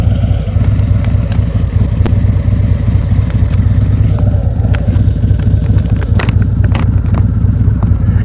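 A motorcycle rides through city streets, its engine a loud, continuous low drone that stays close throughout, with faint clatter and brief ticks above the rumble and no talking.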